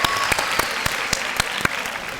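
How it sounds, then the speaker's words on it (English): Graduating seniors at the 2018 Metro Schools College Prep 12th grade high school graduation clap together: dense, steady applause filling the hall, with sharper individual claps standing out now and then. "give yourself a round of applause because you deserve it"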